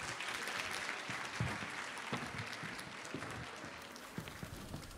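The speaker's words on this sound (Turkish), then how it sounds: "Büyük alkışlarınızla." Steady applause from a large audience at a university fashion show, dense clapping that carries on throughout with a few sharper claps standing out.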